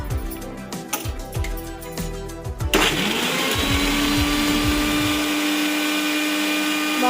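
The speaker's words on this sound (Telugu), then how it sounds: "వెల్లుల్లిపాయలు కూడా మిక్సీ పట్టుకోవాలండి టమాటా పచ్చళ్ళలోకి." A kitchen mixer grinder grinds garlic cloves for tomato chutney, first in choppy pulsing bursts as pieces rattle in the jar, then a steady loud motor whir that runs on until the end.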